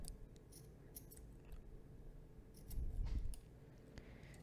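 Scissors snipping crochet yarn to trim the excess length from a small crocheted butterfly, a few faint quiet cuts with a slightly louder crunch near the end, no talking.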